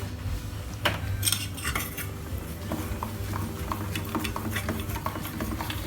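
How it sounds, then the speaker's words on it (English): A utensil repeatedly scrapes and clinks against a pan while stirring melting homemade chocolate, steady irregular clatter close up with no speech. "Stir it well again, so that more silky and smooth consistency will come."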